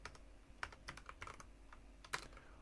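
Quiet keyboard typing nearby, with irregular clicks and taps of keys coming in short bursts, with no talking.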